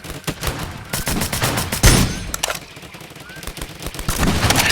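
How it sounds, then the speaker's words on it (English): Rapid bursts of shotgun fire in a video game, many loud, sharp blasts in quick succession with a chaotic, dense rhythm throughout. "he's also using the shotgun, which has like 17 bullets that shoot out at him"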